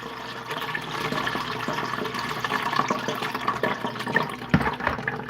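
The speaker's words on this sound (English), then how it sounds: "We're going to run it through the strainer into this pot." Boiled tamarind juice pours through a kitchen strainer into a pot, a continuous splashing, trickling liquid sound with small drips and clinks, close and fairly loud.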